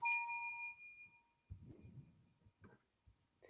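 A bell rings once at the start, a clear ding with a ringing tone that decays over about a second, followed by someone talking.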